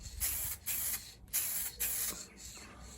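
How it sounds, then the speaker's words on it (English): Several short bursts of spray hiss as a coat of finish is applied to an oak shaving brush handle, each about half a second long, separated by brief pauses and fairly close. "I just spray it."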